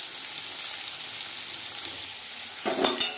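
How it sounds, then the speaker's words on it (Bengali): Food sizzles steadily in a frying pan with turmeric and sugar added, and near the end a utensil scrapes and stirs through it in a short, louder burst, close up with no talking. "এবার একটু নাড়াচাড়া দিয়ে তারপর ঢেকে দেবো।"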